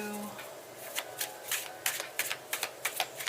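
Tarot cards being shuffled, a quick series of about a dozen crisp papery riffling bursts in steady rhythm, close and fairly quiet with no talking over them.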